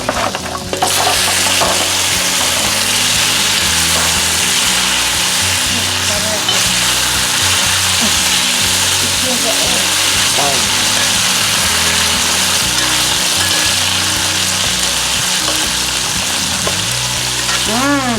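Garlic shrimp fry in a hot pan, a loud, steady sizzle with crackling spatters that holds unbroken from start to finish, close to the microphone.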